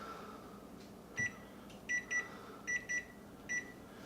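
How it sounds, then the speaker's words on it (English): Kitchen timer being set for a pumpkin crumb cake in the oven: six short, high electronic beeps in an uneven pattern, each one clear and fairly close, over a faint steady hum. "Set our timer for 55 minutes."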